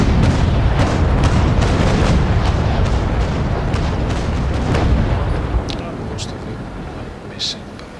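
Ship cannon fire in the naval combat game Naval Action, a dense run of heavy booming shots rolling together loudly, then thinning out into a few scattered, fainter blasts toward the end.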